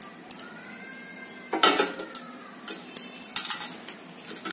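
Mustard seeds and urad dal dropped into hot oil in a pan for tomato rasam, a soft sizzle broken by brief metallic scrapes and clinks, fairly close but quiet, with no speech.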